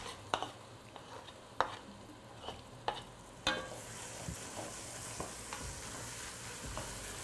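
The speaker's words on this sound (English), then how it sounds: "So we'll be adding the onions." Roughly chopped onions fry in a kadhai on high flame, with a constant sizzle broken by repeated scraping stirs and clinks of the spoon against the pan, close and without talk.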